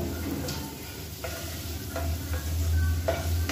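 Egg frying with masala in oil over a medium flame: a steady close sizzle with intermittent scraping stirs of a spatula, no talking.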